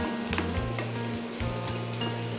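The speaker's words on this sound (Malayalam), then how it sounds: "ഉള്ളി നല്ല മൂത്ത് വരുന്നുണ്ട്" Onions fry in hot oil for kappa bonda, a steady close sizzle with faint crackles and a low background hum.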